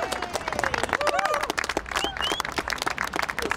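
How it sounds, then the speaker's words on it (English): An audience at a local art event in Hastings breaks into dense applause, steady clapping with cheers and whoops rising through it, close and loud throughout. "let's give Tina a huge round of applause as well"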